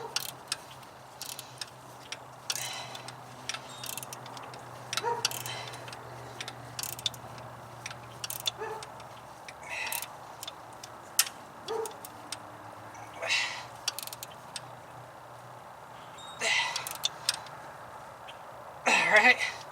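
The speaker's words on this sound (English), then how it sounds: "I'm going to go ahead and tighten up the back one first." Wrench work on a nut tightened in a cramped spot, heard as a string of quiet ratcheting clicks and metallic taps in short bursts across the stretch, faint and close with a low background hum.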